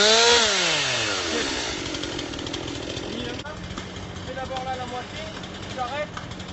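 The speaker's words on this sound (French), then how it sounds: "Rebelote avec les tronçonneuses et les coupes-coupes." A chainsaw cutting wood revs high and whines down, then idles and buzzes in the background while voices talk over it.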